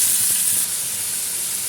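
Onion going into hot coconut oil with already-popped mustard seeds, giving a steady close sizzle and hiss that softens partway through and carries on evenly, with no voices.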